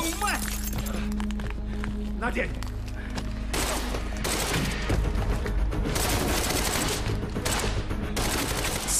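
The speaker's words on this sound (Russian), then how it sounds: "Идиоты, это... Это лаборатория, здесь нельзя стрелять." Gunfire inside a laboratory in Quantum Break, rapid overlapping bursts of shots and booms filling the clip, growing denser midway, with a voice talking over the shooting.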